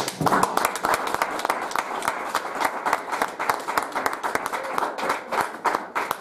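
A church congregation applauds the Lord, dense fast clapping from many hands that is loud and sustained, with no talk over it.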